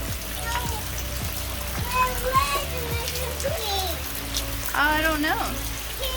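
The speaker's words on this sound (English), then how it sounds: "The rain is super heavy." Heavy rain falls steadily outdoors on a rainy day as a broad, continuous patter close by, with a voice and brief chatter rising over it now and then.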